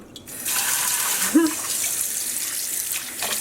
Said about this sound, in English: Let's take our rainbow brown yarn and plop it into the rinse water.